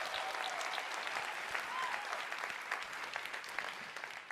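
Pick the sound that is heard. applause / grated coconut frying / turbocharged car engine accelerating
applause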